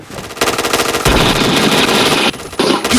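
Rapid automatic gunfire in a video game shooter, loud dense bursts of machine-gun shots with a brief pause between volleys.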